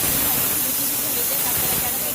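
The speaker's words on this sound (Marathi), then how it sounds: "हे आपल्याला दोन सिट्ट्या मारून घ्यायच्यात कुकरमध्ये" A pressure cooker cooking maize on the stove lets off a loud, steady hiss of escaping steam that fills the whole stretch without a break.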